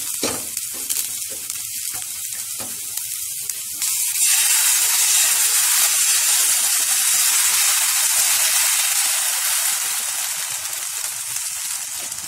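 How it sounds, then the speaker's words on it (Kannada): An onion rava dosa fries in oil on a tava over a medium flame, giving a steady, close, hissing sizzle that jumps louder and brighter partway through and then holds. "ಸುತ್ತ ಸ್ವಲ್ಪ ಎಣ್ಣೆ ಹಾಕ್ಬಿಟ್ಟು ಮುಚ್ಚಿಟ್ಬಿಟ್ಟು ಮೀಡಿಯಂ ಫ್ಲೇಮ್ನಲ್ಲಿ ಚೆನ್ನಾಗಿ ಫ್ರೈ ಮಾಡ್ಕೊಳ್ಳಿ"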